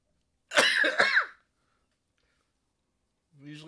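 Two sharp, forceful coughs in quick succession, close and loud, followed by silence and then a voice beginning to speak.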